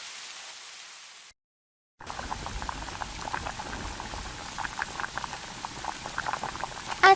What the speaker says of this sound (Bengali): আজকে বুঝি খিচুড়ি রান্না হচ্ছে মা?